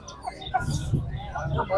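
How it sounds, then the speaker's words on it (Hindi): A Java Aseel hen with six chicks gives soft, brief clucks at a Sunday bird market in Karachi, faint and close, over quiet background murmur. "ये बच्चे हैं, एक मुर्गी है।"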